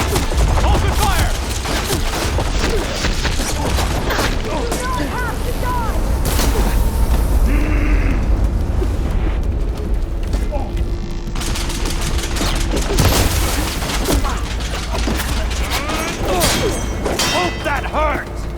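Dense, continuous gunfire and booming impacts from a firefight in Horizon Forbidden West, with rapid bursts and mechanical clatter filling the whole stretch, loud and close.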